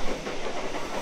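A Sydney Tangara passenger train passing the platform, a loud, continuous rumbling roar with rattling wheels and a hissing rush filling the whole moment, no voices.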